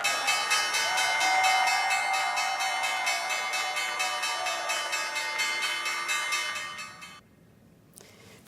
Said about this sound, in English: A special guest rang the opening bell at the New York Stock Exchange.